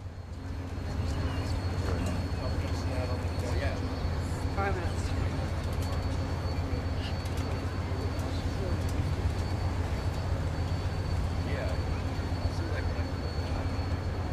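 Southern Pacific steam locomotive SP 4449 pulls out of a station with a steady, heavy low rumble that swells after the first second and holds evenly, with faint clanks and hisses scattered above.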